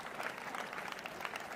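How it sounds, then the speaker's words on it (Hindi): Schoolchildren in a school courtyard clap to welcome a guest, a steady, fairly faint patter of many small hands that carries evenly through the moment. "सभी बच्चे अपने स्कूल के प्रांगण में पहुंचने पर रीना जी का तालियों के साथ"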